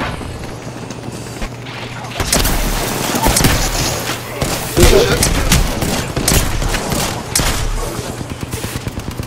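Gunfire in the video game Apex Legends: loud, rapid bursts of automatic fire that crack in quick succession and keep going, with thuds and mechanical clatter between shots.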